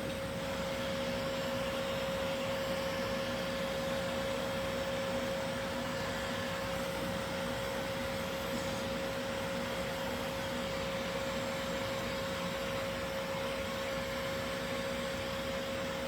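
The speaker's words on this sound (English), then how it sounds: "My paint was pretty wet, so I gotta dry it really good." A dryer, used to dry wet paint on a canvas, blows in a steady, even whir with a constant hum, continuous and fairly close for the whole stretch, with no talk.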